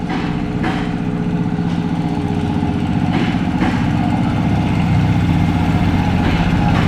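A car engine with a horrid fault runs steadily and fairly loud for the whole stretch, a rough, continuous idle-like drone with no talk over it.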